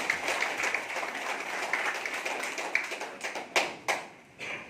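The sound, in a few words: audience applause, clapping hands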